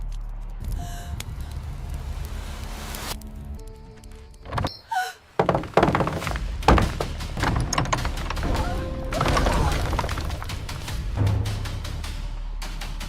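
Someone pounds on a door in a tense, dramatic scene, a run of heavy thuds and knocks mixed with shouting voices and background music.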